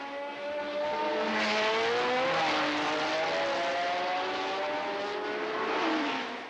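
Two Tyrrell Formula One cars running wheel to wheel on a test day, their high-pitched engines screaming loudly and continuously as they pass close by.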